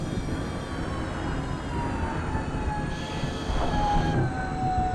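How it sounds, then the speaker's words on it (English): An electric car's motor in the racing game GRID Legends gives a steady, rumbling, train-like drone with rising and falling whine tones, loud and continuous, with no voices. "Worries me that I'm an electric car that sounds like a train."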